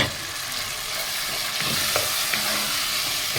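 Tomatoes tipped into onions and peppers already frying in a pan, a loud continuous sizzle with a few small pops and stirring knocks, close by and without talk.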